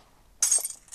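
An object breaks in the video game Dread: after a near-silent moment comes one sudden bright, glassy crash that rings and tinkles away over the next half second.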